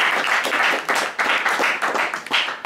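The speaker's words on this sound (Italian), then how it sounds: "Un applauso a tutti." Applause from guests at a 107th birthday celebration in Mussomeli, a dense run of clapping with a steady, lively rhythm that stays fairly loud and close for the whole stretch, with no talk over it.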